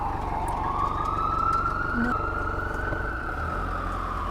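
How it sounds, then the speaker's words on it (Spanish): An ambulance siren wails steadily in a long rising tone, fairly loud and close, over a constant New York street rumble. "El sonido de la ambulancia, de la sirena."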